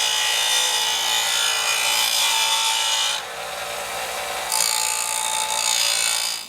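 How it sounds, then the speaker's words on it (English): Harsh, continuous abrasive rasping of sanding on a metal motorcycle fender bracket for a Honda Rebel 250, loud and close, with a brief dip in intensity midway. "Now that I've got this bracket sanded to match the original one that I made"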